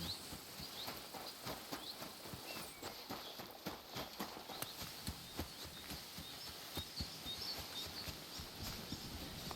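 Horse hooves clip-clop steadily on the ground in Kingdom Come Deliverance II, a close, even gait rhythm over a dense ambient background.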